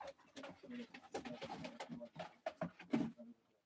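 A male pigeon at a live pigeon auction coos in a few soft, close, throaty calls among shuffling and rustling, ending with a short louder burst before falling quiet.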